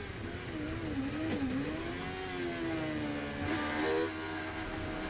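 A 750MC club race car engine at Silverstone drones steadily and loud, its pitch wavering and climbing as the driver works the throttle, with a brief lift near the end.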